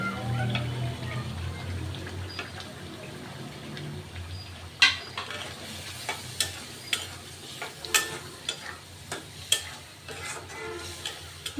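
Spices sautéing in a pan for a Bengali-style broccoli and cauliflower dish: a steady soft sizzle with a series of distinct clinks and scrapes of a spoon stirring against the pan, close by.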